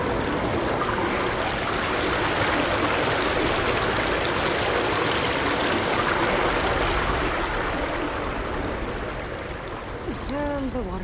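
Water rushes and flows steadily and loudly close by, a dense continuous wash with no breaks, then eases slightly near the end as a brief voice comes in.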